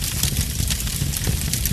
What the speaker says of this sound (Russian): мы действительно слышим треск костра, звучание костра, как будто настоящие дрова горят у вас